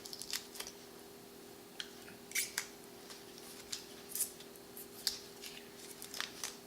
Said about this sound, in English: I'm going to take the protective plastic